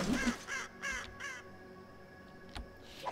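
A crow caws repeatedly in the Lego Lord of the Rings video game, several harsh rhythmic calls in quick succession over a steady game soundtrack, fairly loud and close.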